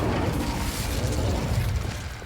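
A steady, fiery whoosh as an Incendio flame spell is cast in the Hogwarts Legacy video game, with a constant crackling rush at moderate loudness.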